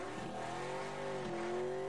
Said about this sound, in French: Patine vite ce buggy